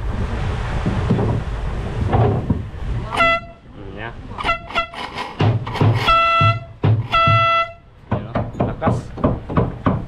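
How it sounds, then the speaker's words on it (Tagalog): Several loud boat horn blasts sound in short bursts, some long and some quick, mixed with nearby talking and mechanical clatter. "testing natin yung busina."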